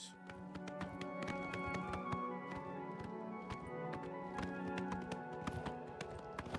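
Hooves of a horse in the video game Oblivion clip-clop steadily at a trot, a continuous series of crisp taps over faint background music, fairly quiet throughout.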